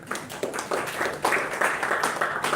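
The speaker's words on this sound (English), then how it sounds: "When you decide to clap, clap properly." Audience at a Toastmasters club meeting claps continuously, a moderately loud, steady patter of many hands with repeated swells and no voices over it.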